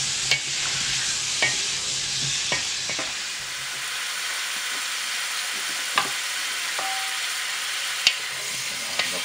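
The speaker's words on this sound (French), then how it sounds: "On va griller un petit peu ces saucisses pour éviter que ça se décharge." Sausages grilling over a hot fire for a boucané recipe, a continuous close sizzle and hiss with sharp pops and spatula scrapes scattered through it.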